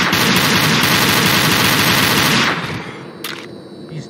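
Loud, sustained automatic gunfire from a video game rattles continuously for about two and a half seconds, then cuts off, leaving a fainter tail with a short burst of noise near the end.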